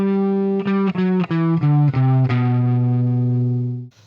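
Distorted electric guitar with chorus runs through the first Phrygian mode window in G, a quick string of picked notes ending on a long ringing one, loud and alone.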